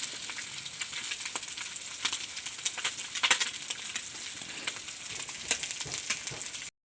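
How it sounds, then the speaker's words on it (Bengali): Fresh pond fish fry in hot oil in a pan with a steady, close sizzle dotted with sharp crackling pops, running unbroken for about seven seconds before cutting off. "মাছগুলো কিন্তু খুব সুন্দর করে ভাজা হয়ে গেছে, একদম শক্ত করে ভেজে নিয়েছি।"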